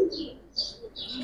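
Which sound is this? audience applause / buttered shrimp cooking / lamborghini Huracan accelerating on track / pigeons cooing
pigeons cooing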